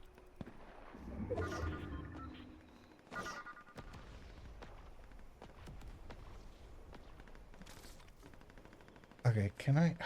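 Gunfire in the video game Fortnite from a weak, short-range gun: scattered sharp shots and brief bursts ring out at moderate volume, separated by quieter stretches, with a louder rattling flurry at the close.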